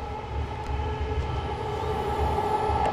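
Interior deck of an Odakyu Romancecar limited express train running through a subway section, a steady low rumble with a soft mechanical hum and faint high whine, muted and even throughout.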